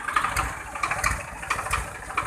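Swaraj 735 FE tractor engine revved repeatedly, its mid-pitched mechanical clatter rising and falling in short pulses, close by with no talk.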